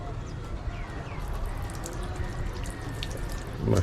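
Water runs steadily from a tap at a railway station, a continuous close splashing stream with faint background bustle.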